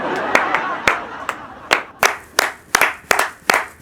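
Sharp, separate hand claps from a small group in a comedy sketch, about a dozen crisp strikes coming faster toward the end, close and loud with a little background murmur.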